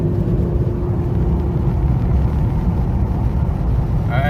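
A 1998 car with a newly replaced transmission speed sensor accelerates, its steady, loud engine rumble and road drone heard from inside the cabin, with a voice speaking over it.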